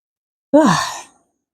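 A single close, drawn-out yawn, starting abruptly and sliding down in pitch before fading into a breathy exhale.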